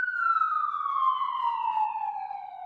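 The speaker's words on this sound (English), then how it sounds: "You can hear the sirens outside." An emergency vehicle siren passing outside through downtown Gardner wails steadily, its pitch sliding slowly downward as it passes, loud and continuous with no voices.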